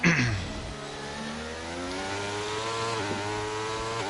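Alfa Romeo race car engine lapping Monte Carlo in a racing game, a loud, steady high-revving whine with climbing harmonic pitch, briefly dipping around a shift before rising again, with a commentator's voice faintly underneath.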